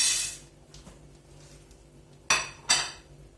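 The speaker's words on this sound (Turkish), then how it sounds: "Mantımı ilave ediyorum." Two sharp metallic clinks of a pot ring out near the end, with a softer clatter at the start, as manti dumplings for a chicken manti dish go into the pot in a quiet kitchen.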